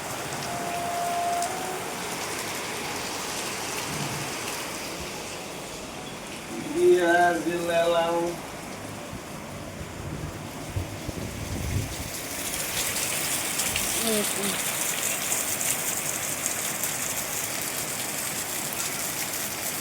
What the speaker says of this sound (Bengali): প্রচুর হারে বৃষ্টি হচ্ছে, তো আপনাদেরকে দেখাচ্ছি।